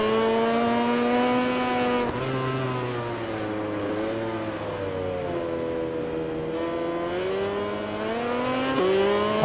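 A KTM motorcycle engine in the MotoGP 20 video game, revving as a steady, loud tonal whine that dips and climbs as the bike accelerates through gear changes, heard alone without talk.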